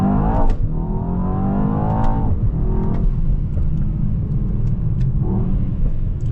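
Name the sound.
Mercedes-AMG S63 E-Performance engine and exhaust note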